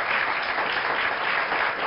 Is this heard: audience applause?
yes